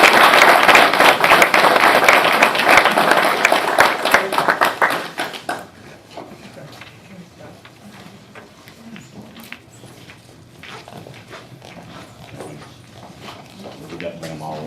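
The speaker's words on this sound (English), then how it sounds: "for these students to stand out, they really do deserve an applause" Applause from an audience at a school board of education meeting, loud and sustained for about five seconds, then fading into quieter room noise with scattered faint sounds.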